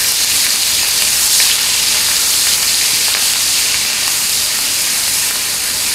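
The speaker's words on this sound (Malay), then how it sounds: "kita akan gorengkan dulu ataupun tumiskan dulu, ya. Bawang putih, bawang merah." Garlic and shallots fry in hot oil, giving a steady, dense hiss and sizzle that holds evenly for the whole stretch, fairly loud and close, with no talking over it.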